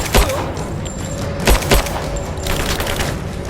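Gunfire in Rise of the Tomb Raider video game: a few heavy, separate shots ring out over a constant noisy battle backdrop, with a busier stretch of firing near the end.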